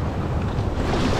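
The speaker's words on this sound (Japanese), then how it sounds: "すごいバックウォッシュ。" Ocean waves crash and wash back at a surf point with strong backwash, a loud, continuous roar of surf mixed with wind buffeting the microphone, and no talk.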